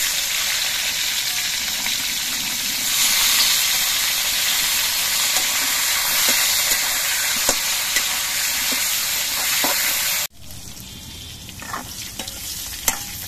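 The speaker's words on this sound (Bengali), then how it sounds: "বাকি পটলগুলো একইভাবে ভেজে নিচ্ছি।" Slices of pointed gourd (potol) fry in hot oil in a kadai, a loud, dense sizzle with faint stirring clicks, dropping to a quieter crackle after an abrupt change partway through.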